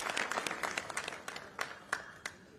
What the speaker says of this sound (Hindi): इनके लिए भी एक बार जोरदार तालियां आप लोग बजा दीजिए